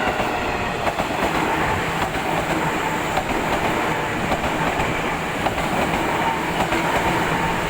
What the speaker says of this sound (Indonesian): Tuh itu keretanya tuh.